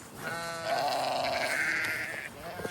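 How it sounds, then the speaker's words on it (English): Sheep in a rainy paddock, part of a mixed flock with cows being moved, give a couple of drawn-out wavering bleats at moderate distance, fairly faint and with no talk over them. "Sheep are here."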